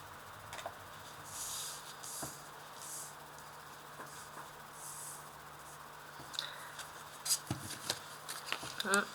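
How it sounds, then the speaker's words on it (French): Tarot cards are laid out on a table, giving soft papery slides and light taps in quiet, scattered bursts that grow busier toward the end. "Alors, je place mes cartes pour qu'on puisse toutes les voir."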